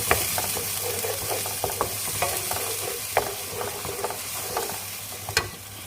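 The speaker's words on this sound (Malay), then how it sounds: "Kita tumis bahan-bahan ni sampai dia naik minyak ataupun sampai dia garing ya." Spice paste with turmeric sizzles in hot oil for a prawn curry while a spatula stirs it. Close, busy frying crackle is broken by repeated sharp scrapes and clacks against the pan.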